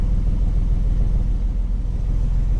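Engine of a classic car named Roy, fitted with a swapped Weber carburettor, running steadily on a test drive, a continuous low rumble close by with no talk.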